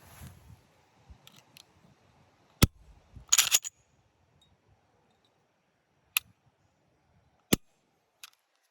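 Sharp pistol shots from a Glock fitted with a Timney Alpha Competition trigger, four well-spaced loud cracks, one followed by a brief burst of clatter, otherwise near silence between them.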